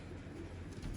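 A pigeon coos softly in a low, continuous rumble, faint and close, with no other clear sounds over it.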